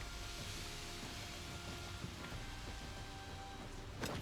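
Rain in the video game WarTales, a faint, steady hiss of falling drops that continues without a break.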